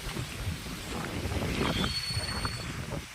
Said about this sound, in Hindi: एक तरफ हवा चल रही है